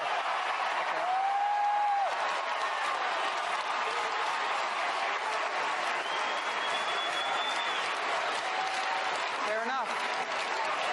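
Sustained applause from a town hall crowd on gun control, a dense steady wash of clapping throughout with a few faint whistles or tones over it and some voices mixed in.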